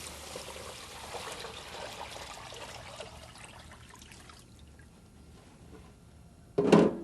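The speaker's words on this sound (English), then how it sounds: "We'll then add the water to the pan." Water trickles and pours into a pan of rice being prepared for a Panasonic Sonic Steamer oven, a faint, gentle stream that fades out, followed by a brief louder clatter at the end.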